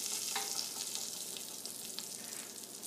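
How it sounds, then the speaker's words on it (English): Beef short ribs searing in a hot pan, a steady close crackling sizzle throughout with no talking. "You see, we've got a good sear on all four sides."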